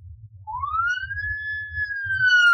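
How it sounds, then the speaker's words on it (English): A single siren tone rises, holds and sweeps slowly, heard fairly clearly over a low engine rumble inside a moving car. "A police car? Where did that come from?"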